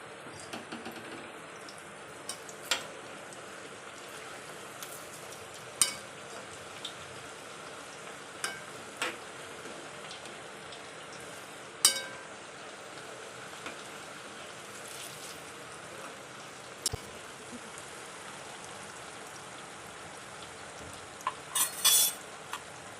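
Alu vadi, colocasia leaf rolls, shallow-fry in oil with a soft, continuous sizzling hiss, broken by occasional light spoon clinks as they are turned, fairly faint overall.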